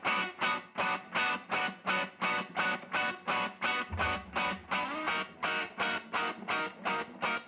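Song played back, heavily rhythmic with loud pulsing chopped chords repeating about twice a second, a bright distorted tone throughout and no voices.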